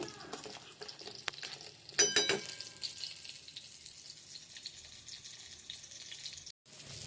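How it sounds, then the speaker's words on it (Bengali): Semolina with dates and sugar stirred in a pan, a soft, close scraping and sizzling texture with a brief louder clatter near the start, quiet overall and with no talking. "খেজুর দেওয়ার পরে একটু চিনি দিয়ে নেড়ে দিলাম সুজিটা"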